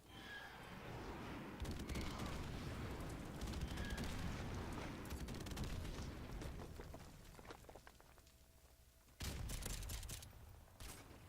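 Gunfire in Call of Duty: Modern Warfare Remastered, with continuous bursts of rapid shots and booming explosions over a dense battle din, then a louder volley near the end.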